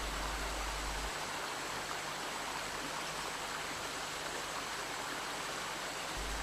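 A fast-flowing river in Costa Rica gives a steady, dense rush of water that stays constant and fairly close throughout, with no voices.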